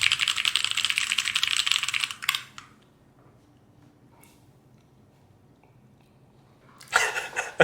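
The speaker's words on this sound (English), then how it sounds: "How does my typing sound?" Rapid typing on a computer keyboard clatters close to the microphone in two bursts, separated by a few seconds of near silence.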